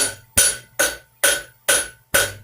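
Cross peen hammer striking hot metal while forging a simple leaf hook, six sharp ringing blows in an even, steady rhythm, close and loud with brief gaps between strikes.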